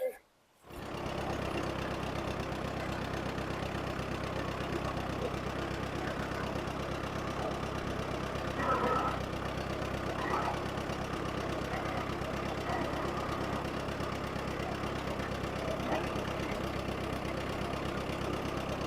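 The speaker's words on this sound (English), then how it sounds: "let's see how close I could get the tractor to it." A steady, low engine drone runs continuously at even volume, like a tractor idling nearby.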